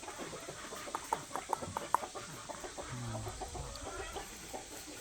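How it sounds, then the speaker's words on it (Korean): Farm chickens cooling off in water on a hot day cluck and squawk in short, repeated bursts, several birds close by, over faint splashing and a steady background hiss. "요즘은 닭들도 날 더우면은 물 속에서 피서를 한단다"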